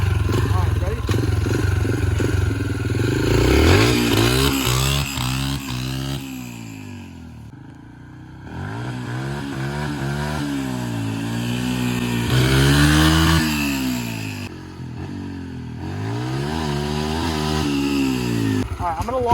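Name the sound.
dirt bike with big sprocket accelerating through gears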